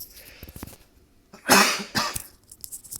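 A loud, harsh cough bursts out, followed by a second smaller cough, after some quieter rustling and clicks.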